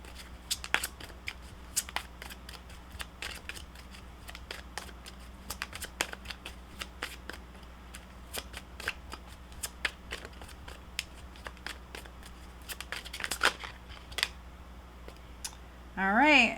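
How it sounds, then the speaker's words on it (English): Tarot cards being shuffled by hand, a steady run of crisp riffling snaps and soft slides close up, with a brief louder flurry near the end. "if you don't like the shuffling, my apologies"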